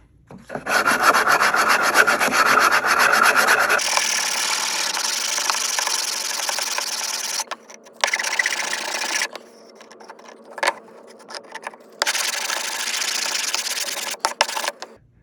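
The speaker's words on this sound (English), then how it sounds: "I need to do just a little bit of sanding to make it smooth" Rhythmic scratchy rubbing of sandpaper on a wooden box ukulele soundboard, continuous at first, then in short bursts with quiet pauses between strokes.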